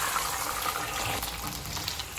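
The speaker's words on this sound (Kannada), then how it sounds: "ಆಲೂಗೆಡ್ಡೆ ಬೇಯಲಿಕ್ಕೆ ಎಷ್ಟು ನೀರು ಬೇಕು ಅಷ್ಟನ್ನು ಹಾಕ್ಕೊಳ್ಳೋಣ." Water being poured into a pot to boil potatoes for a Karnataka-style horse gram curry, a steady close splashing rush that runs unbroken throughout, with no voices.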